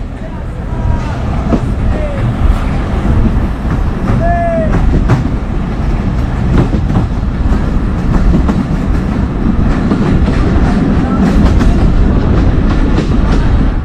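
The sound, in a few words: Modhumoti Express train with old vacuum rake departing station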